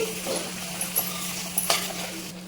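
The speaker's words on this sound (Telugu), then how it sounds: "వీటన్నింటినీ బాగా ఫ్రై చేసుకోవాలండి." Tomatoes and cashew pieces frying in a pan for paneer butter masala, a soft steady sizzle with a few sharp clinks of a utensil stirring against the pan, fairly quiet with a low electrical hum underneath.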